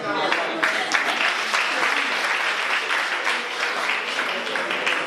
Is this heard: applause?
yes